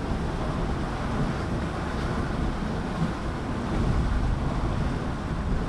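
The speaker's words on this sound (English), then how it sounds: "Wind is just under 20 knots again." Wind rushes past and waves wash along the hull of a sailing yacht moving at 8.8 knots in just under 20 knots of breeze, a steady close broadband roar with no talking.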